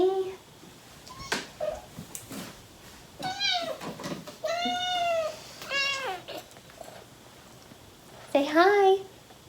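A house cat meows several times, drawn-out and fairly close, with pauses between calls and one louder, higher cry near the end; a person's voice comes in quietly between the meows.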